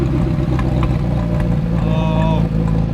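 A damaged McLaren 720S engine runs roughly in a steady, loud, close drone, while people talk over it and a brief whining tone rises partway through.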